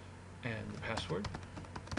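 Password typed on a computer keyboard: a quick, quiet burst of keystrokes lasting a couple of seconds, with a voice faintly audible underneath.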